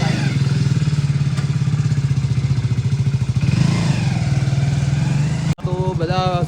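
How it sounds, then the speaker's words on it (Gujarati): A motorcycle engine runs loud and close with a rapid, steady putter that swells slightly midway, then cuts off abruptly as a voice speaks at the end. "મને બાઈક લઈને ફટોફટ જવા દે"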